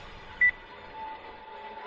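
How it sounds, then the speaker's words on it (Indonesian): A single short electronic beep from a leftover wartime landmine rings out once, clear and thin, above a steady low hiss. "Suara bip dari mana ini?"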